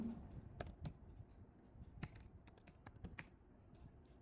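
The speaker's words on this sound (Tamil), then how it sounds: "கோட் ஃப்ளெக்ஸ் தமிழ்னு டைப் பண்ணுறேன்" Quiet, irregular clicking of a computer keyboard as someone types code, with bursts of keystrokes and short pauses, close and alone with no talking.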